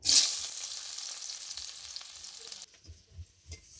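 Chopped onions hitting hot mustard oil in a kadai, a loud initial sizzle settling into a steady frying hiss that cuts off abruptly, followed by a few soft knocks.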